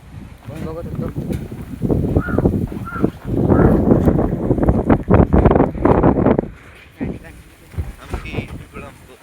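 Strong wind gusts outdoors after heavy rain, roaring and buffeting the microphone in loud bursts that rise and fall, mixed with a voice talking.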